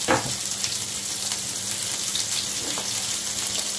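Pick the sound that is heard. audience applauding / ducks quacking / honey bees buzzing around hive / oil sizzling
oil sizzling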